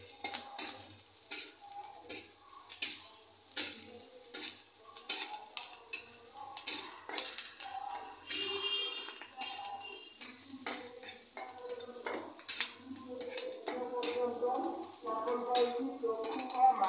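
Potatoes and bitter gourd are stirred in a pan, with a spatula scraping and clinking against the metal in a quick, uneven rhythm of close, sharp knocks over a faint sizzle.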